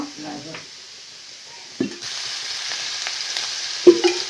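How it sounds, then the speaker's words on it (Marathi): Onion frying in oil for tomato chutney; a soft sizzle that swells into louder, steady frying midway, with a few clinks of a utensil against the pan and faint speech early on. "आता आधी तेल टाकून कांदा चांगला भाजून घ्या"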